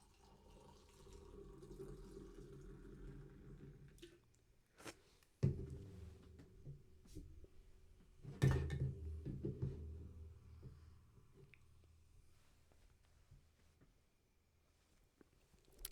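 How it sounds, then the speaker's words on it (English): A can of Four Loko Red malt beverage poured into a glass, with a low liquid rush and fizzing patter that runs steadily, then two sharp clinks or knocks and a quieter trickle near the end, no voices. "I want to pour this right now and give my review of it."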